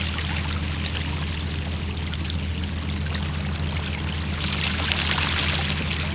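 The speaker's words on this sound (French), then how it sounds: "Le courant qui commence à se former" Tidal current beginning to flow over a flooding passage at Saint-Malo during a very high tide, a continuous rushing, pouring wash of water heard close and steady throughout.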